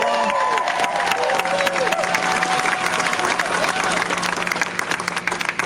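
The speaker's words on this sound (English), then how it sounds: "Can we please have a huge round of applause for all of our speakers?" A climate rally crowd at a governor's conference applauds its speakers outdoors, dense clapping mixed with cheers and scattered voices, loud and sustained throughout, easing slightly toward the end.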